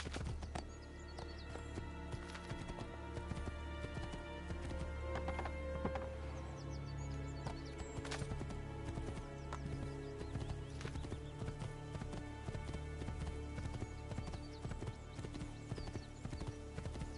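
A stolen horse galloping in Assassin's Creed II, with steady, rapid hoof clip-clops running throughout over a game soundtrack, a neigh and faint bird chirps in the background.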